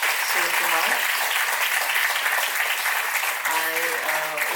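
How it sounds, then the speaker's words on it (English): An audience at a lecture celebrating artist K G Subramanyan applauds Professor Siva Kumar with a steady, full round of clapping throughout, while a voice speaks over it briefly at the start and again near the end. "Could we all have a round of applause for Professor Siva Kumar?"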